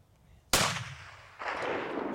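A single loud rifle shot fired at a bull elk on a hunt cracks sharply, followed by a rolling echo and a second swell of distant report.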